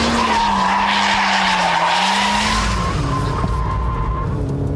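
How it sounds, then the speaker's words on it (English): A Ford Puma drifts at around 65 to 70 mph after a Scandinavian flick, its tyres squealing and skidding loudly and continuously over a droning engine note that shifts in pitch as the slide goes on. "you need to resort to the Scandinavian flick, followed by a bit of lift-off oversteer"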